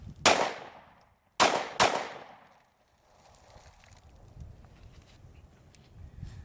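Three sharp, loud shots from a Ruger LC9 pistol fired at close range of about 3 to 4 yards. Two come in quick succession after the first, each with a short decaying echo, followed by quiet outdoor ambience.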